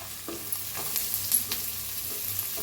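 Onion frying in oil in a pan gives a constant soft hiss, with a few light scrapes and taps of a spatula stirring it at close range; no talking.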